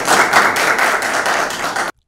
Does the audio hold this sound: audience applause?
yes